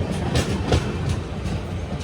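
An intercity express train rumbles out of Chandragiri railway station, a steady low roar with rhythmic wheel knocks and rattling carriages heard from on board.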